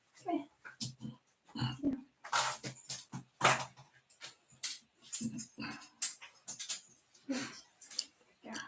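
Dogs at a dog grooming business whine and whimper over and over in short, uneven bursts, close by and fairly quiet.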